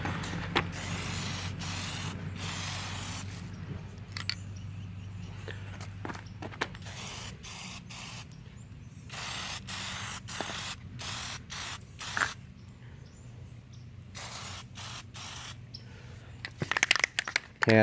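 A spray can sprays Plasti Dip onto a car grille in repeated short bursts separated by pauses, with light handling clicks and shuffling in between.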